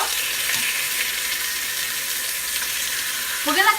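Seasoned beef short rib sizzles loudly in olive oil in a hot pan, a steady bright crackle throughout with a brief clatter at the end.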